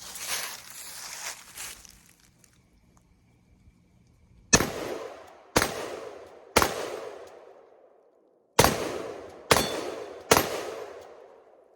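Six sharp gunshots from a Palmetto State Armory Jakl striking a steel dueling tree: three quick reports, a short pause, then three more, each loud with a ringing tail, after some faint rustling at the start.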